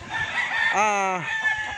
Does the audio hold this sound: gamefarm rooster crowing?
yes